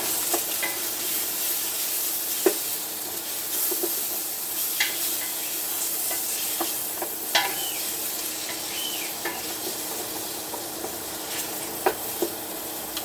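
A wooden spatula stirs frying food, giving a steady close sizzle broken by light scraping and tapping strokes against the cookware, with no talking.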